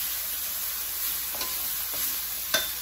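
Garlic stirred and fried in a pan for a Thai coconut chicken curry: a steady hiss of sizzling broken by a few scraping stirs, with the sharpest scrape near the end and no voices.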